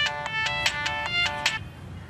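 A bright electronic ringtone plays a quick, rhythmic pattern of pulsing tones, loud and close, then cuts off abruptly.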